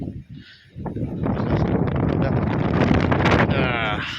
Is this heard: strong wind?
yes